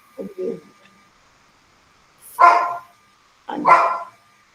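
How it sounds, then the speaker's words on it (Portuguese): A small dog barks in short bursts: a couple of faint yips early on, then two loud, close barks about a second apart, over a steady background hum. "Tem um cachorrinho latindo aqui."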